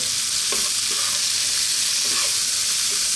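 Continuous sizzling of bell peppers stir-frying in a hot pan, with a few soft scraping knocks as they are tossed, close and fairly loud.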